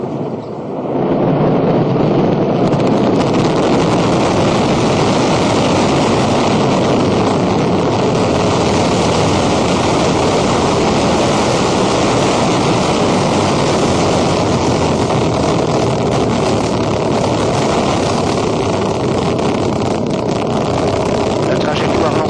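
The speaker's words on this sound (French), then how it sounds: "Allumage des EAP et décollage" An Ariane 5 rocket ignites its solid boosters and lifts off at Kourou, a loud sustained roar that builds within the first seconds and holds steady, broad and rumbling, for over twenty seconds.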